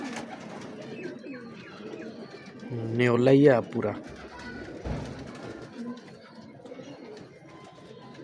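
Pigeons at a high-flyer pigeon show, large French breeder birds, coo and call in a brief loud burst midway, with people talking throughout.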